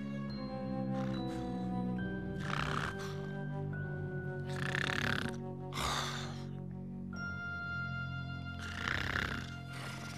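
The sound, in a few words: snoring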